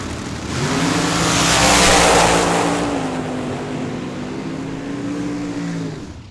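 A blower-equipped dragster runs down the drag strip at Tucson Dragway. One loud, sustained engine roar swells to a peak and then eases off slightly while holding steady as the car pulls away.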